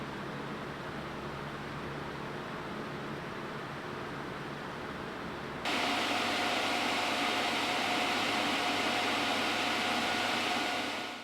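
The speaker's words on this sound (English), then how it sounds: "The Meeko goes up to level 12, and even at that speed it's not unpleasantly loud" Constant rushing noise from a Meeko electric fan that steps up abruptly to a louder, stronger blowing roar halfway through, up to its level 12 setting, with a faint steady hum.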